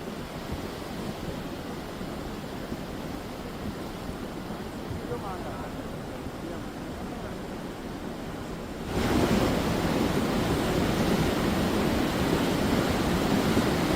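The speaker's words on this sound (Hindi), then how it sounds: "तेजी के साथ पानी का ये बहाव मलबा को लिए हुए" Floodwater surges with debris after a cloudburst in Chamoli, Uttarakhand, a steady loud roaring rush that grows even louder partway through, with no voices over it.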